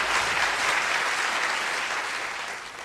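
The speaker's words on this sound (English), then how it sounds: "can we have a big round of applause for the 15 finalists who took part?" Audience applause for the 15 finalists of the 2011 Malaysia Best Sommelier Championship final, a dense, steady clapping from a full room that carries on loud and slowly tapers off toward the end.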